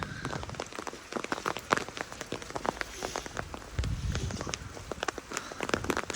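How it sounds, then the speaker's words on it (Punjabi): Morning rain falls steadily on surfaces, a dense patter of drops with irregular louder splashes and taps, close by and continuous. "ਬਰਸਾਤਾਂ ਪੈ ਰਹੀਆਂ"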